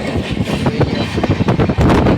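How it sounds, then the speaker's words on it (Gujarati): A passenger train bound for Rajkot runs along the track, heard from aboard as a loud rumbling roll with rhythmic clattering knocks and some wind buffeting the microphone. "આપણે લોકો ટ્રેનમાં બેસી ગયા બધા હવે જઈએ રાજકોટ"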